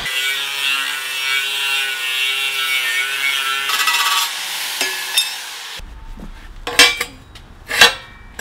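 A metal part is cut off during a mini bike build, first with a loud, steady high-pitched whine and grinding rasp, then several sharp scraping strokes and clanks after it stops.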